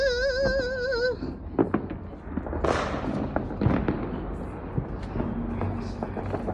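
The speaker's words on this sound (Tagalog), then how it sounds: "Look, watch the fireworks!" New Year fireworks crack and thump repeatedly at varying distances, a mix of sharp bangs and duller booms with a loud burst in the middle. Faint voices and a brief whistle-like tone at the start sit beneath the blasts.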